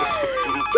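A short electronic phone ring with a steady tone and a brighter burst right at the end, heard alone without any voices.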